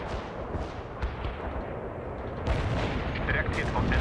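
Artillery barrage from the war strategy game World in Conflict crashes down as a dense, continuous roar of blasts, swelling louder in the second half, with no clear voices on top.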